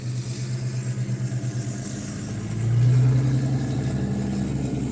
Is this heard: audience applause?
no